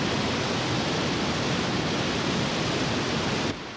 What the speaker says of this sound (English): let's take a look and walk behind the waterfall